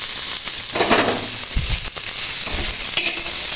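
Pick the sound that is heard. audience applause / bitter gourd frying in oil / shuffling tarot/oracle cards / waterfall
bitter gourd frying in oil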